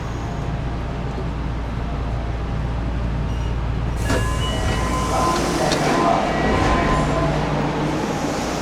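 A Nagoya Metro train rumbles steadily, then brakes and rails screech and clatter as it moves through, with faint voices in the background.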